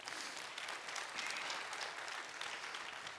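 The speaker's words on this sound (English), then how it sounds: "Give yourself a round of applause." A church congregation applauds during a Sunday service livestream, a soft, distant and even wash of clapping heard at low level.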